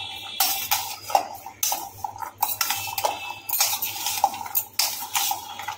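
Spiced potatoes stirred in a pan for a chatpata aloo snack, with repeated scraping and clinking of a metal spoon against the pan in irregular strokes, close and fairly clear.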